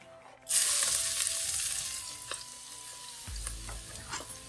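Garlic hits a hot pot and starts frying with a sudden loud sizzle that holds steady, then eases slightly, with a soft low thump partway through.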